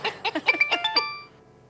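A short, bright chiming phone message notification tone of rapid ascending tones rings out clearly, then fades away.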